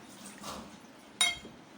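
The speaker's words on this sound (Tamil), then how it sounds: "ஒரு அரை கப் மட்டும் நம்ம தண்ணி சேர்த்துக்கலாம்" Water goes into rava dosa batter made with tomato and dried red chillies, heard as a quiet trickle followed by a brief sharper splash, close and faint in an otherwise hushed kitchen.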